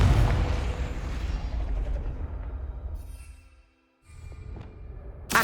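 A Confringo blasting spell goes off in the video game Hogwarts Legacy: a loud, booming burst with a low rumbling tail that fades to silence, then a second, smaller burst of crackling energy follows.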